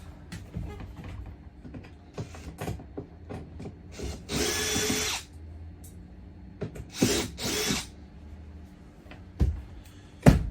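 Small screws being worked out of an old RV door lock plate with a power driver, short whirring bursts between clicks, taps and handling rattles, close and intermittent.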